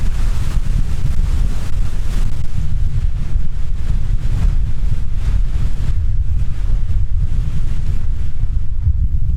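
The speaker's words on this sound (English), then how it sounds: "the wind was trying its hardest to push me right off the flipping edge" Strong wind on an exposed mountain edge batters the microphone in heavy, continuous low gusts, loud and rumbling throughout with no voices.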